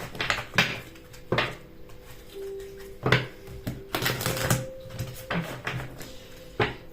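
Tarot cards are shuffled by hand, giving irregular close riffles and crisp clacks that keep going throughout.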